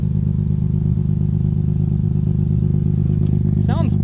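A ported Mazda RX-7 rotary engine idling nearby, a loud, steady rumbling drone with an even, lumpy pulse. A brief squeal of a different sound cuts in near the end.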